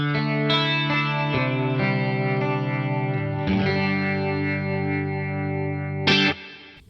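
Electric guitar through a Boss Katana amp with chorus blended over a distorted tone, sustained chords ringing with a shimmering, echoing wash for an 80s-style sound, loud and alone.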